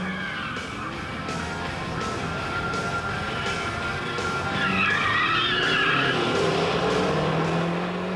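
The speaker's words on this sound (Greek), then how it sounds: "το συγκεκριμένο αυτοκίνητο δεν δυσκολεύεται καθόλου να διώξει την ουρά του" A turbocharged first-generation Mazda MX-5 NA, over 200 hp, drifts with a sustained tyre skid and squeal. The sound is loud and continuous and builds midway, and engine noise runs underneath.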